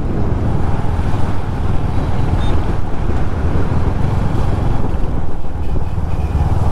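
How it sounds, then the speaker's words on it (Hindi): A strong wind storm roars over the microphone beside a Royal Enfield Hunter 350 motorcycle, a loud, continuous low rumble of buffeting gusts with no break. "यहाँ पे देख रहा आंधी तूफान"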